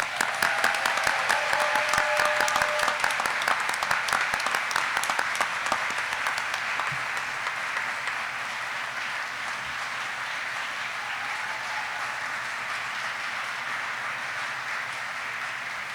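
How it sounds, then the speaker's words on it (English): Audience applause for graduating Aviation Captain's Career Course soldiers at a U.S. Army ceremony, a dense, sustained wash of many hands clapping that stays steady throughout without fading. "Please join me in a round of applause for the Aviation Captain's Career Course graduates"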